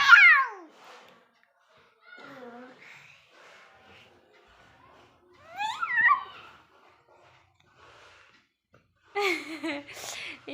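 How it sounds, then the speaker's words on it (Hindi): A cat meows several times at home, a descending cry at the start, a rising call mid-clip and a louder cry near the end, with quieter sounds and pauses between. "हाँ, बिल्ली।"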